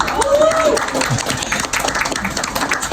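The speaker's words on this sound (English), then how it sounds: "let's do a round of applause for everybody" An audience at a university psychology conference breaks into applause, a steady wash of many hands clapping close by for about three seconds, with murmurs mixed in.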